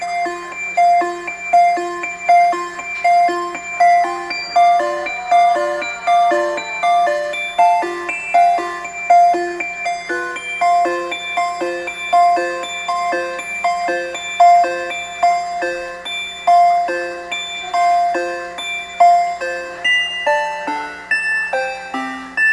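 A synthesizer sequencer plays a fast repeating pattern of bright, bell-like notes, steady and pulsing throughout, with three layered DCO oscillator tones and no voices.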